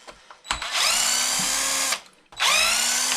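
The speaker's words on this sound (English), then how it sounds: "Pop these 2 bolts out of the mount." A cordless power drill whirs in two sustained bursts while undoing bolts on the servo mount of an RC car on a workbench, with a short pause and spin-down between runs, loud and close.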